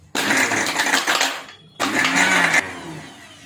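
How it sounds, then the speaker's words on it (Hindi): A mixer grinder whipping chilled ghee runs in two loud bursts separated by a short pause, whirring steadily before cutting off and trailing away. "अब ये घी को हमने कर लिया है मिक्सी में।"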